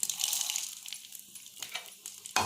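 Urad dal and coriander seeds fry in hot oil for a green chili chutney tempering, giving a steady close hiss and crackle that fades slightly, with a few sharp stirring scrapes and a louder burst at the end.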